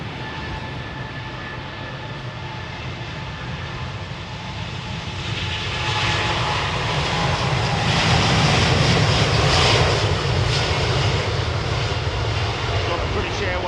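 A long Boeing 787-10 jet departs Heathrow, its engine roar steady at first and then swelling louder around the midpoint as it passes, with a person speaking over the noise.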